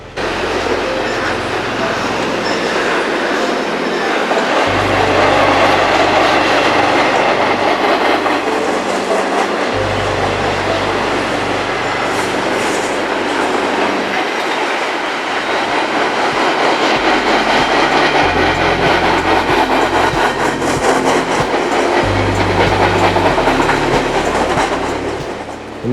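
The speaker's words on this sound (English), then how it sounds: "the day ends off with a perfect rolling meet in the late afternoon sun next to the Lula train depot" Two freight trains pass each other in a rolling meet beside the Lula depot in late afternoon, with loud continuous rumble, clattering wheels and rolling cars sustained throughout.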